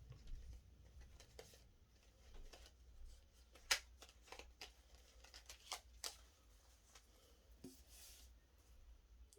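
Tarot cards are shuffled close by in a quiet room, soft riffling and flicking with scattered sharper snaps and brief pauses between bursts.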